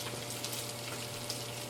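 Raw bread croutons fry in oil in a pan, giving a steady, even sizzle with soft crackling pops throughout and no one speaking.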